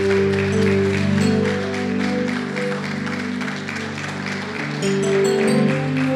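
A church congregation claps steadily in a sustained round of applause during a sermon, with music and low sustained tones carrying on underneath.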